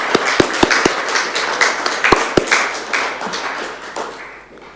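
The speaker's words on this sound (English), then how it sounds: "We can have a round of applause." Council chamber round of applause at a shire council meeting: a handful of sparse, uneven claps and taps from a small group, several distinct sharp hits that thin out and fade toward the end.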